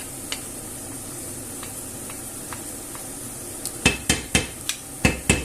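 Hake and rice are stirred in a pan, starting as faint scattered clicks over a low frying hiss, then turning into a quick run of sharp, close scrapes and knocks of the utensil against the pan.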